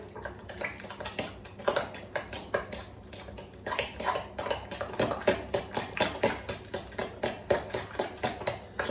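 Eggs being stirred into a Weetabix cake mixture in a bowl, a quick rhythmic run of spoon clinks and taps against the side, close and steady, briefly pausing before speeding up again.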